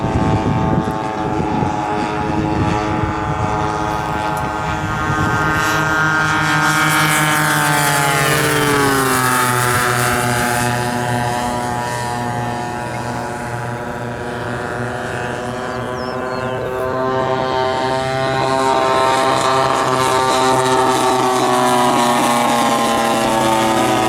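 A propeller warbird, a Mustang or T-28, runs up and taxis at an airshow, its engine a loud, steady droning growl that shifts in pitch as it swings around and then holds close and powerful throughout.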